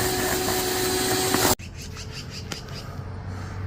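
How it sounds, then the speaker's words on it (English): A vacuum whooshes with a steady, loud rushing roar while cleaning out an air conditioner coil, then cuts off abruptly. Quieter scraping and tapping follow. "just going to start vacuuming out what we can."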